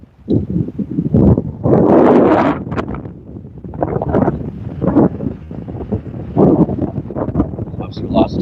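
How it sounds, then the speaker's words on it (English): Gusty wind buffets the microphone in broad rumbling bursts outdoors at a police and emergency medical scene in Austin, Texas, with voices talking intermittently underneath. "It's windy out here."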